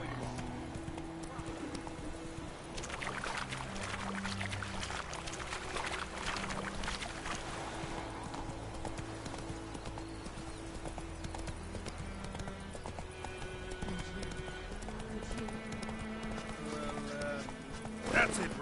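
Roach the horse gallops in The Witcher 3, a steady clip-clop of hooves running under continuous game music, with a voice talking over parts of it.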